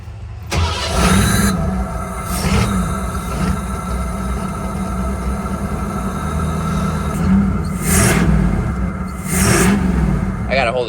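A Ford 5.0L engine cranks and fires up, then runs with a steady rumble that surges in loudness near the end, close and loud, with no talking.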